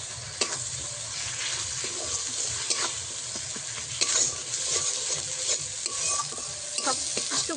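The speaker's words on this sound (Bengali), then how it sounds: "সব কিছু মশলা একসঙ্গে আমি ভালো করে একটু কষিয়ে নেবো" Spice paste with cumin and pepper being stirred and fried in a pan: continuous close sizzling with repeated scraping strokes and utensil taps, no voices.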